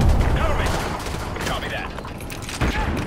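Shotgun blasts and battle noise in the Call of Duty: Modern Warfare 2 campaign, scattered reports and impacts amid general combat sounds, with a voice talking over them.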